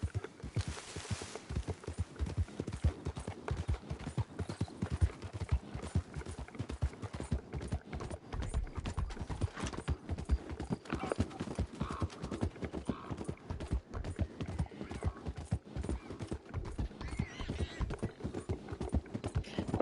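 Horse hooves beat in a steady rapid rhythm while riding in the video game Red Dead Online, a continuous close clip-clop that runs throughout with no talking.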